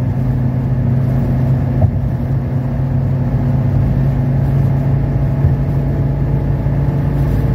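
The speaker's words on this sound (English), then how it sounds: "I'm just under full throttle acceleration right now." A 1985 Mercedes 300CD accelerating under full throttle, heard from the cabin as a loud, continuous low engine drone with steady harmonic tones and road rumble.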